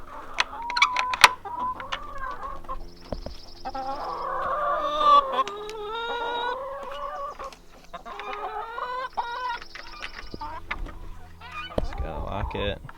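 Backyard chickens cluck and call inside a coop, a near, busy mix of repeated clucks and squawks with a few sharp knocks, no talking.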